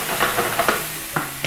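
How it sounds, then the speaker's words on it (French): Ingredients cooking in a pan for a Mexican egg dish, with a steady close sizzle and hiss under several soft utensil stirs and knocks. "nos éléments ont déjà commencé à cuire"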